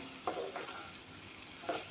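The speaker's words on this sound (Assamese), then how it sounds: "পিঁয়াজক অলপমান টাইম ভাজি লৈছোঁ" Quiet sizzling of onions frying in a pan, with a few soft scrapes of stirring, close and low in level.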